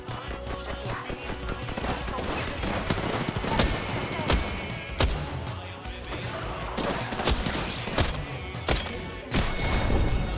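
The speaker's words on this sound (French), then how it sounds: "Je tire." Gunfire in an Apex Legends match crackles in dense, repeated bursts over a constant backdrop of game noise, with sharp individual shots and rapid volleys throughout, loud and close.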